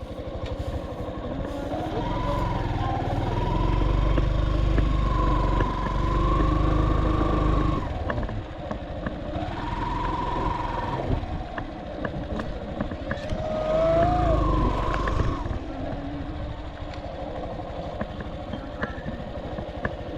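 A motorcycle engine idles and revs at a small beach parking spot in Pamplona, General Nakar, Quezon, a steady low rumble throughout with a few rises in pitch, while people talk nearby.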